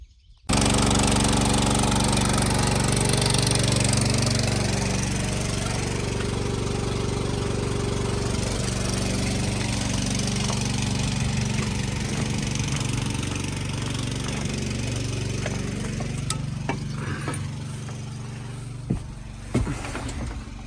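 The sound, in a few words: tractor engine running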